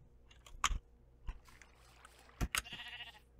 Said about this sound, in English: I hear you, cows.